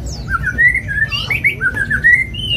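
A caged songbird sings loud, close, whistled phrases in a sliding, repeated pattern, standing clearly above a low background hum.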